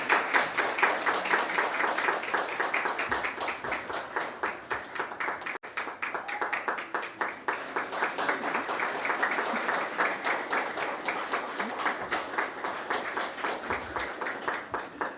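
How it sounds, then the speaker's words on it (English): Sustained audience applause at a youth awards ceremony for a remarkable-teens honoree in St. Kitts and Nevis: dense, steady clapping from many hands, fairly loud and even throughout, with no break. "This is where you clap."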